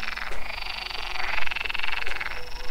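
A loud, dense chorus of frogs croaking continuously by a lake, many overlapping pulsing calls close by with no talk.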